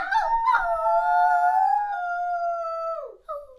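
People imitate wolf howls with their voices, a long rising and sliding howl held for about three seconds before dropping off, followed by a short second howl, close and loud with no other talk.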